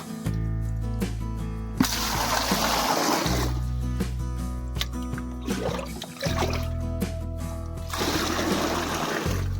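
Water is scooped out of a drum for cows on a cold winter day in Mukteshwar, producing repeated sloshing splashes and trickles in bursts between short pauses, close by and moderately loud.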